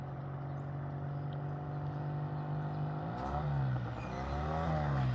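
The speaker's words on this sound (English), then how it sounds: "And I hear a motorcycle coming back under its own power." A Triumph 350cc 3TA motorcycle engine drones steadily at a distance, then its pitch rises and falls as it revs and shifts while drawing nearer.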